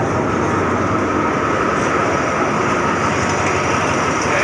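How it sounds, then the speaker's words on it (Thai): A train pulls in at Chum Saeng station in Thailand with a loud, steady rumble of rolling wheels and carriages that continues without break and with no voices. "มาดูขบวนสุดท้ายของวันนี้กันนะครับ"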